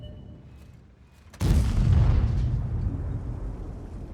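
An artillery shell lands near a Leopard 1 tank in World of Tanks: a single sudden, loud, close blast that booms and rumbles, then decays slowly into a lingering roar.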